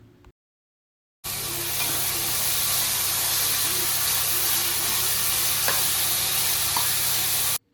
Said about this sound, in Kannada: 1 ಹಿಡಿಯಷ್ಟು ಬಟಾಣಿನ ಹಾಕ್ಕೊಳ್ಳೋಣ. ಹಾಕ್ಕೊಂಡು ಚೆನ್ನಾಗಿ ಇದನ್ನು ಫ್ರೈ ಮಾಡ್ಕೊಳ್ಳಿ.